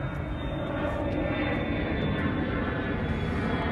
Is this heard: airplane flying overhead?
yes